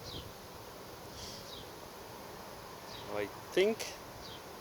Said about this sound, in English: this hive has been bearding a lot. A lot of bees in there.